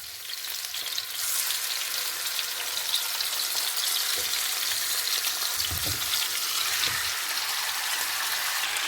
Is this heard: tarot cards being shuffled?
no